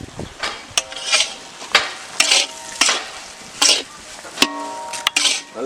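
Semolina roasts in a pan for Chettinad ukkarai, with a spoon or spatula scraping and knocking against the metal in repeated strokes over a soft sizzle, close and fairly loud.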